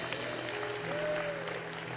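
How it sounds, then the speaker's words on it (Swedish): A church congregation at a Sunday service applauds a visiting preacher, a steady, fairly quiet wash of clapping lasting throughout with a faint tonal hum beneath it. "ge honom en applåd"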